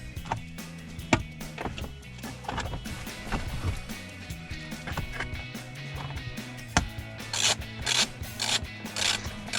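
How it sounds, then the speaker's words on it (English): A ratchet is spun by hand to back a fastener out during a cup holder install in a Jeep Wrangler JL, giving irregular light clicks and ticks over quiet mechanical clatter close by. "I'm just spinning the ratchet by hand to thread the fastener the rest of the way out."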